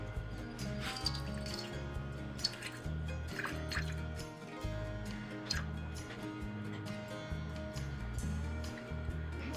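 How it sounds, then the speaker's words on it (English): Water trickles and drips into a container for a sourdough starter, a soft, quiet stream with small irregular splashes and drips. "So we are going to start with 50 grams of water."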